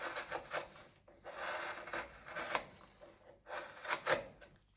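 A deep canal gouge cutting a pocket hole into wood by hand, heard as close, quiet rasping scrapes in short strokes separated by brief pauses.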